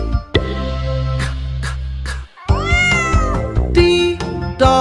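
A cat meows several times in a row, loud and close, with drawn-out tonal cries and short pauses between them, alone without talk.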